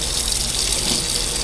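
Hot water sucked through an eGo-T vape atomizer to flush its air holes, a steady bright gushing, slurping flow that runs continuously for the whole moment, close and fairly loud.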